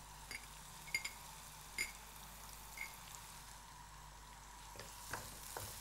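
Onions frying in a kadai pan and being stirred, a steady soft sizzle with a few clinks of the spoon against the metal, close and alone without voices.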